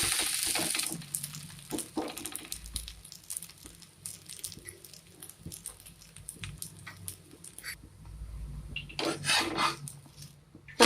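Toor dal dosa sizzling in oil on a pan and being flipped, a steady soft frying hiss with scraping clatter from the spatula. The clip ends with brighter bursts of scraping near the flip.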